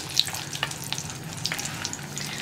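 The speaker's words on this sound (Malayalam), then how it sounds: "വെളിച്ചെണ്ണ നന്നായി ചൂടായി വരുമ്പോൾ നമ്മൾ എടുത്തു വെച്ചിരിക്കുന്ന വറ്റൽമുളക് ഉണ്ടല്ലോ, അത് മുഴുവനെ ഇട്ട് കൊടുക്കാം" Whole dried red chillies fry in hot coconut oil for a tomato chutney, giving a soft, continuous sizzle dotted with small crackles and pops throughout.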